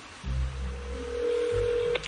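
A mobile phone call is placed and rings, heard as a steady electronic tone that holds for over a second and then cuts off, over a low background hum.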